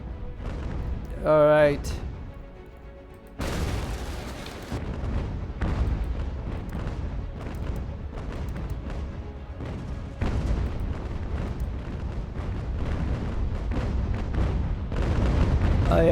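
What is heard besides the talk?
cannon fire from a 112-gun warship in Ultimate General: American Revolution, a video game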